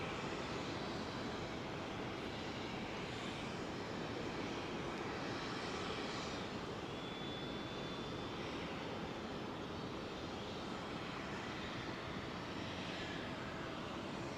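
Departing airliner roars continuously overhead on runway 09R at London Heathrow, a steady, faint, broad engine rumble with no voices.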